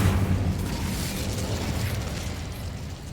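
Incendio fire spell cast in Hogwarts Legacy, a dense roaring burst of flame with low rumble at the start, fading into a sustained crackling rush, loud and alone.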